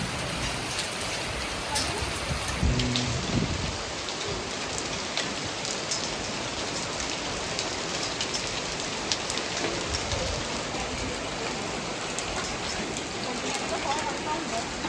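Steady heavy rain pours down in a dense, continuous hiss, close and even throughout with no pauses.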